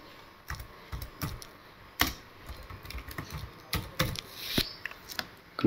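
Keys tapped on a computer keyboard in irregular bursts of clicks, fairly close and alone, as text is entered into a table in a word processor, ending with a firmer keystroke.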